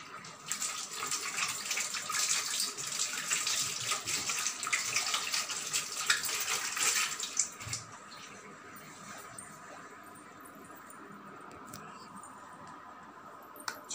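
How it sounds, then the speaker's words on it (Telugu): Tap water runs steadily into a sink while hands are washed, a close hissing splash lasting about seven seconds before it stops, followed by quieter handling noises and a faint voice. "మనం ఇప్పుడు హ్యాండ్ వాష్ చేసుకుందాం"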